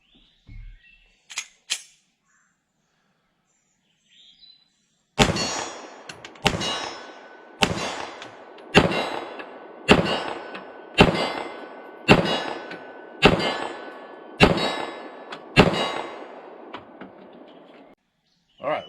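A 9mm Smith & Wesson M&P 2.0 Compact Carry Comp pistol firing at a steel plate 25 yards away: after a few faint taps, about ten sharp evenly spaced shots, each followed by a ringing metallic clang from the plate.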